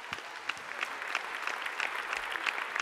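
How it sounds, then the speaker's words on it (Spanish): A church congregation in Madrid applauds a departing gospel choir, a steady, dense wash of many hands clapping throughout, moderately loud and fairly close. "así que un fuerte aplauso y los despedimos"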